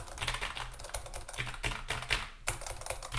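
Rapid typing on a Keychron computer keyboard, a close, continuous patter of clicky keystrokes with a few sharper accented hits and no voices.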